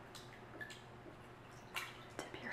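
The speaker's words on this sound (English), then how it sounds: "dip your hands in the water" Hands dip and swish in a basin of water with sea salts, giving soft, close drips and splashes in a few scattered bursts against a quiet room.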